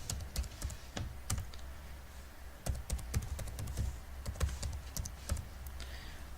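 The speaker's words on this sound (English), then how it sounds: "And I enter password." Password being entered on a computer keyboard, a quiet, close series of light key clicks tapping in irregular bursts over a low steady background hum.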